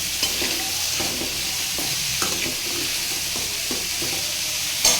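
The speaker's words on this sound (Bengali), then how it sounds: "সবজিটাকে বেশ অনেক সময় ধরে আমি নেড়ে চেড়ে কষাচ্ছি।" Chopped pumpkin and mixed vegetables frying in a pan for a vegetarian Bengali dish, with steady sizzling and repeated scraping stirs at an even rhythm, close and clear, with no talking.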